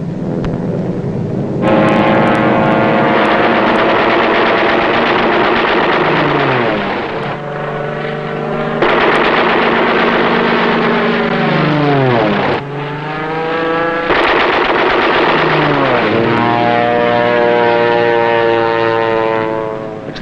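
Wartime air attack on Woleai with aircraft engines roaring in long, loud sweeping passes that rise and fall in pitch one after another, each drone swelling and fading, with no talking.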